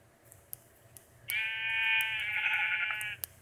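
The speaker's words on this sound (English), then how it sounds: "Thank God we found a sheep" A Minecraft sheep gives one long, clear, wavering bleat lasting about two seconds, with soft game clicks before and after against a quiet backdrop.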